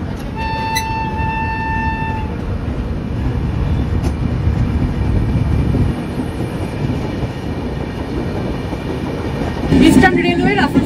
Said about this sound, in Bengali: ট্রেন এই মুহূর্তে মানকরে ঢুকলো।